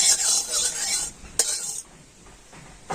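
A little hot mustard oil is swirled and spread around a heated wok, giving a close, bright hiss with faint utensil scraping, a sharp clink midway, then quieter sizzling.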